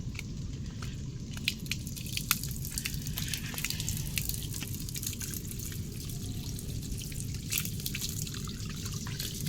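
Water runs from an outdoor tap while hands and feet are washed, a quiet steady trickle with scattered splashing drips, fairly faint and with no voices.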